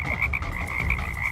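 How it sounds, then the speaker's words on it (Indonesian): Frogs croak in a rhythmic chorus of repeated pulsing calls over a low, rumbling background, close and fairly loud with no speech. "Kenapa banyak katak?"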